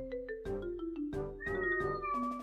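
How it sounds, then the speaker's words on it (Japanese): A house cat meows indoors, several distinct, clear meows in close succession, near and moderately loud, with no talk over them. "猫鳴いてる。"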